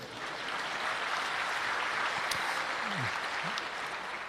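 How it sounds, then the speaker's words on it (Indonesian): An audience in a religious lecture hall applauds steadily, a dense wash of clapping that holds at an even level for several seconds, with a few faint voices mixed in. "Kita berikan tepuk tangan dulu ya."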